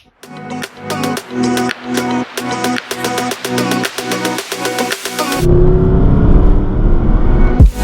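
A Mercedes SLS AMG engine, loud and close: a series of sharp staccato blips and pops that gives way to a steady, heavy roar.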